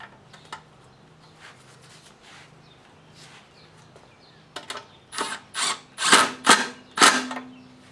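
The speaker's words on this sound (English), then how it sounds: "Don't tighten it up too tight with that kind of impact because you will strip it out" Impact driver tightening a bolt on a Craftsman small engine, quiet clicks and handling at first, then several loud short ratcheting bursts in quick succession close by.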